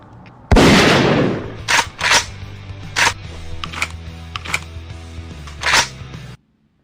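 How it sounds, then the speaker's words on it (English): A burst of sharp bangs ending in a final loud crack, gunfire-like pops spaced irregularly over a low rumble, loud and close, with no talk. "You heard that gunshot at the end of the video"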